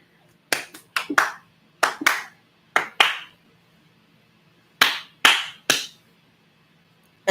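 Hands clap in short, sharp bursts, a few quick claps at a time with quiet pauses between them, close and crisp against a low background hum.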